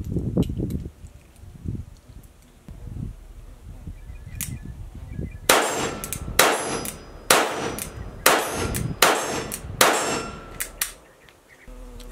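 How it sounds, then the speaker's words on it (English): A Chiappa SAA 1873 single-action revolver fires .22 Magnum rounds in a rapid burst of about six sharp, loud cracks in a few seconds outdoors, after quieter handling and rustling. "We'll put six more rounds of 22 mag in here and try the speed shooting again."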